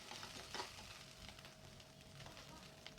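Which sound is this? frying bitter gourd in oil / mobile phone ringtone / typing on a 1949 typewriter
frying bitter gourd in oil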